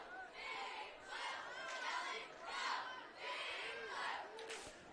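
A crowd at a night high school football game at McNary High School chants and cheers in rhythmic swells, rising and falling about once a second, with no commentary over it.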